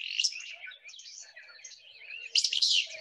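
Bright chirping calls of a flycatcher giving its fitz-bew note in the Truckee Meadows, a few short clear bursts with a louder one near the end, no talking.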